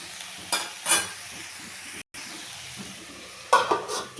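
Drumstick flowers tossed with salt and turmeric in a pan, with a few brief scraping stirs over a low sizzle and a short break in the middle.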